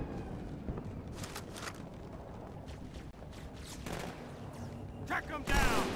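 Gunfire from the video game Halo 2 comes in scattered bursts and rapid volleys over a dense rumbling game soundscape, with a heavier cluster of shots near the end.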